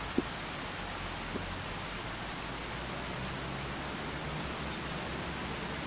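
Steady rain falls in the farming video game Farming Simulator 25. It makes a dense, even hiss that continues unchanged throughout, with no talking.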